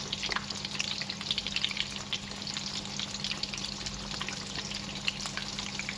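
Sesame prawn toast sizzles steadily in a pan of hot oil, a dense, even crackle and spatter held close throughout with no voices.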